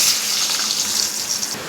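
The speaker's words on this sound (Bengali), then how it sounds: "আলুটা ভেজে নিচ্ছি" Potatoes frying in hot oil in a pan, giving a continuous hissing sizzle, close and steady, with no voices.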